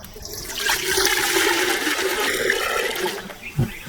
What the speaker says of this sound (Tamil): இப்போ தண்ணி ஊற்று கொஞ்சம் தண்ணி கொஞ்சம் ஊற்று